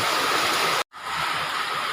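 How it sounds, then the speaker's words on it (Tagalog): Heavy rain pours down during a low-pressure storm, making a steady, loud hiss of falling water. The sound cuts out for a moment partway through, then returns. "Makikita nyo malakas na ang ulan, no?"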